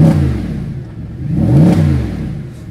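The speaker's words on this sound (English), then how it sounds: "Last time we were revving a car here was the LC500." A Mercedes-Benz SLS AMG engine revs up loudly nearby, its pitch rising and falling, then climbing to a roaring peak before settling back to a rumbling idle.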